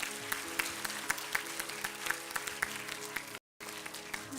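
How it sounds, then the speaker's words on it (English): An audience at a school scholar badge ceremony for grade five claps steadily in a loud, sustained round of applause, briefly cut off near the end. "Let's hear the claps going louder"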